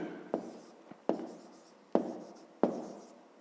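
Pen writing on paper for a fifth-grade math exercise: four distinct scratchy strokes in an uneven rhythm, close and fairly soft, each with a quick tap at the start, with no talking.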